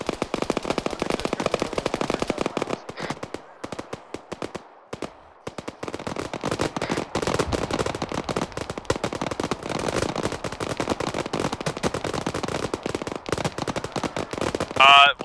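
Dense, sustained automatic gunfire fills the whole stretch in a zombie-shooter game, rapid rattling bursts with only a brief lull near the middle, loud and close throughout.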